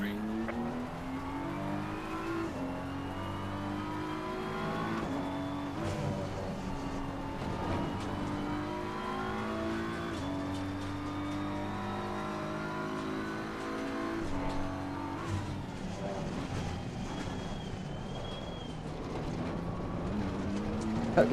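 A race car engine in Assetto Corsa Competizione drones steadily, rising through gears with repeated upshifts and revs from the cockpit, continuous and fairly loud throughout the lap.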